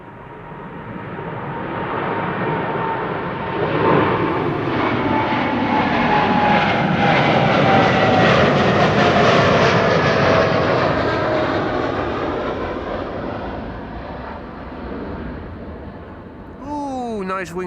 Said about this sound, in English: American Airlines Flight 203 to Philadelphia,